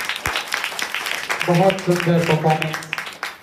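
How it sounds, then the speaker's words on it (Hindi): Applause for a nursery-class children's dance at an Independence Day cultural program rises steadily in a hall, with a voice talking over the clapping midway. "एक जोरदार ताली।"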